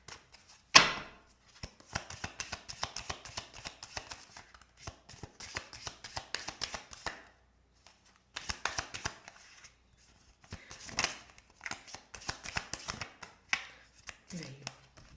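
A deck of slippery tarot cards is shuffled repeatedly by hand, with bursts of quick riffling and flicking separated by short pauses, close and crisp.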